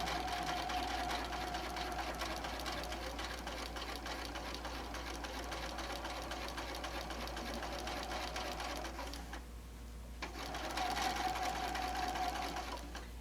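A sewing machine stitches bias tape onto an apron, running steadily and evenly with a brief pause near the end before resuming, close and moderately quiet with no talking.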